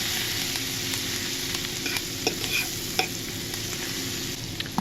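Garlic sizzles in melted butter in a pan, a steady bright frying hiss with a few soft clicks and scrapes as it cooks.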